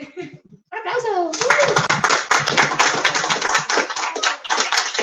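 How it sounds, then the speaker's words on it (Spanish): An audience at a book presentation breaks into applause after a brief voice, a dense burst of clapping that starts abruptly and holds steady at close range, with excited voices mixed in. "¡Un aplauso!"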